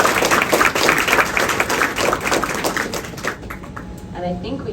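Conference room crowd at a women-in-sports broadcasting panel gives a round of applause, loud clapping that thins and fades toward the end, with a voice briefly heard as it dies down.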